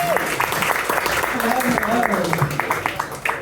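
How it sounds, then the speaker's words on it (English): A comedy club audience at The Rogues in Waterford claps and cheers as a comedian is introduced, dense applause filling the room with some voices calling out over it. "a big round of applause, please, for Selma Page."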